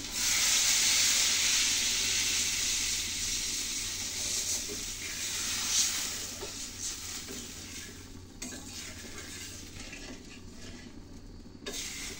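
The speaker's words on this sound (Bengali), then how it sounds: "লঙ্কাটা ভেজে নিয়েছি, জল দিয়ে দিচ্ছি" Water hits a pan of hot oil and fried chillies, bursting into a loud, bright sizzle that slowly settles into a softer bubbling hiss, with a few faint clinks of utensils against the pan.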